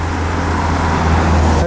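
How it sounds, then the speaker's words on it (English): Steady, loud road traffic roars past near a large viaduct on Garden Wood Road in East Grinstead, a continuous rumble of passing cars with no break. "Hope all the cars aren't ruining this."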